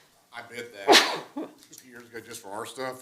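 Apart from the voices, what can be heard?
sneeze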